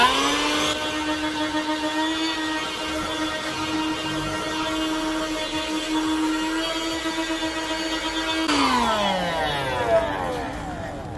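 A cheap 30-real handheld vacuum cleaner runs steadily while cleaning dirt inside a car, giving a loud constant whining motor tone with a rushing airflow. Near the end the pitch drops sharply as the motor winds down.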